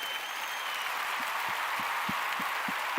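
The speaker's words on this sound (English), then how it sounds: "Horn and a clap." A canned clapping sound effect played on a podcast: a steady hiss of applause runs throughout, with soft, evenly spaced low thumps entering partway through.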